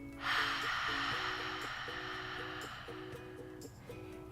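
A breathy exhale on a soft open-mouthed ha, like fogging a mirror, sounds close and airy, fading slowly over a few seconds, with gentle melodic background music underneath.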